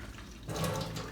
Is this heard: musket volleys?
no